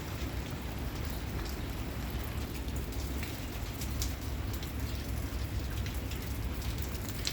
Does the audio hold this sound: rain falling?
yes